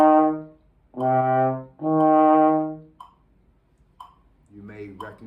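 A trombone plays a minor third interval softly, with two sustained notes each held for close to a second, followed by a few short, quiet tones.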